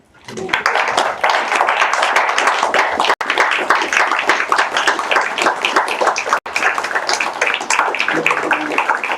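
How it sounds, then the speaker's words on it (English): Steady, dense clapping from an audience at an authors' reading, a loud continuous roar of many hands that carries on for about nine seconds with no talking over it. "Please a round of applause for three authors tonight."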